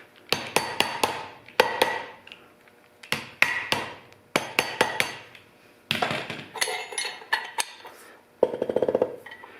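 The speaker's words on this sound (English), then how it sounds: "That's the inner race of the bearing sliding down the shaft that I put the anti-seize on." Metal clinks and taps as the inner race of a bearing slides down an anti-seize coated shaft during a Jeep TJ NSG370 transmission rebuild, with sharp repeated knocks in quick clusters followed by a scraping, rattling finish, close up with no talking.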